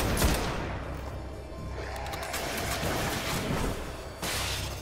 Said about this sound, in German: Von wo die Schüsse kommen, dort soll dich dein Weg hinführen.